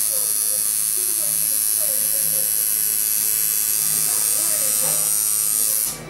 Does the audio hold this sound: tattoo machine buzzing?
yes